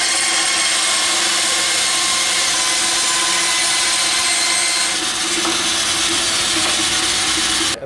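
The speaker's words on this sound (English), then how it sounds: "Cut some strips out of that." Strips of figured red oak cut with a saw, a loud, continuous, close rasping cut with no pauses and no voices.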